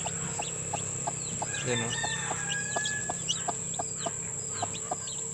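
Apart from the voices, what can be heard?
chickens clucking, hen with newly hatched chicks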